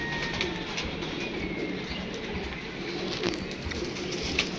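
A group of pigeons coos steadily, half-buried in a dense, hissing wash of background noise, with no clear pauses.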